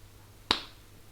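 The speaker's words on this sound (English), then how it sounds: "I snap my fingers" A single crisp finger snap cracks out once during a card trick, close and sharp against a quiet background.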